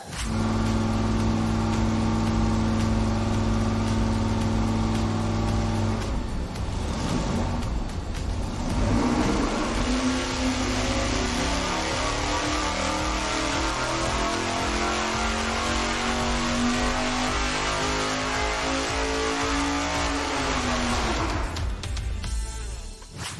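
A turbocharged engine on a dyno test roars loud and steady, then dips, and the revs climb again into a long, rising sustained pull before cutting off near the end.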